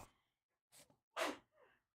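A single faint sneeze with a sharp breathy burst, preceded by a quick intake of breath and followed by a short exhale, in a quiet room.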